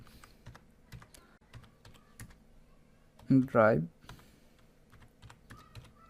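Keys clack on a computer keyboard in scattered, close taps as a search for Google Drive is typed into a browser, with a brief burst of talk in the middle.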